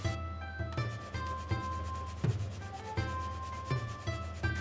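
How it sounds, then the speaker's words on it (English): A quarter of an apple is rubbed against a grater over a pan of Japanese katsu curry in a home kitchen, giving a series of close, regular scraping strokes with a faint tonal hum beneath. "Take around a quarter of an apple and grate into the curry."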